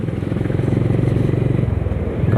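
Honda CB350 H'ness motorcycle cruising on a highway between Dehradun and Haridwar, a steady throbbing single-cylinder engine note with heavy wind rumble, loud and continuous throughout.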